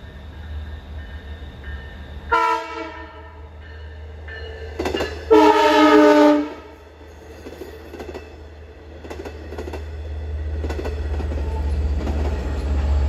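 A Long Island Rail Road train, number 657 from Port Jefferson to Jamaica, approaches Cold Spring Harbor station in autumn. Its horn sounds in two loud blasts, the second longer, as a low rumble of wheels builds steadily toward the end.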